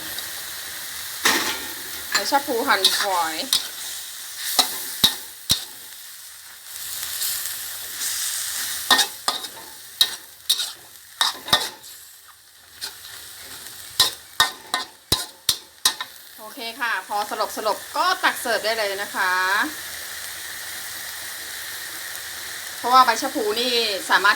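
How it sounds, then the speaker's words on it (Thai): A Thai pork curry with cha plu leaves simmers in a pot and is stirred with a utensil. Close scraping and clinking strokes come in bursts over steady bubbling and sizzling, with a voice speaking now and then. "เดือดแล้วนะคะ หมูสุกแล้วก็ใส่ใบชะพลูลงไปเลย"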